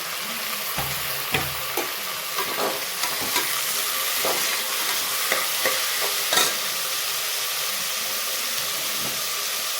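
Tomatoes go into a hot frying pan of onions and green chillies for a vegetable kurma, giving a steady close sizzle broken by repeated stirring clatters and spatula knocks, with no voices.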